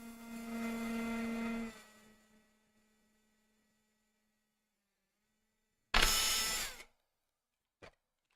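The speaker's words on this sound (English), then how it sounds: "Most likely we'll have to drill those out in 4 millimeters." Electric drill boring holes with a 4 mm bit during a Voron 0.2 3D printer build: a steady motor whine for under two seconds that winds down, then a short louder burst of drilling and a brief final blip.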